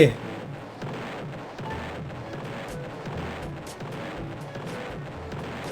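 Roblox Toilet Tower Defense battle gunfire as towers blast a boss, with a rapid run of sharp shots and booms in an irregular stream under a person talking excitedly.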